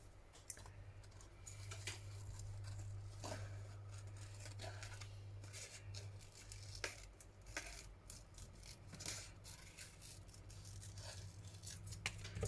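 Scissors fussy cut paper for a handmade garden journal page, producing faint, close snips and crisp paper clicks at irregular intervals over a low steady hum.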